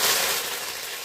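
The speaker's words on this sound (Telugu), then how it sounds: "ఆయిల్ అయితే హీట్ అయింది కదా ఇక ఆవల జీరకర వేసేసుకుందాం అలాగే పచ్చికరివేపాకు వేసేసుకుందాం" Mustard seeds, cumin and fresh curry leaves hitting hot oil give a loud, steady hissing sizzle that fills the short moment evenly, easing slightly as it goes.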